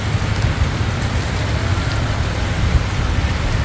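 Heavy typhoon rain from Typhoon Uwan falls in Pilar, Bataan, a loud and continuous hiss of downpour with a low rumbling undertone and no pauses.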